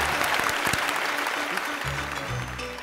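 Steady, dense applause from a studio audience at a Vietnamese family reality show fills the whole stretch, loud and continuous with scattered claps standing out and faint voices underneath.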